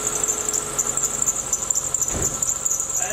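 A loose engine belt squeals on a running Subaru, a steady high-pitched whine over the shaking engine's low rumble, with a brief thud partway through.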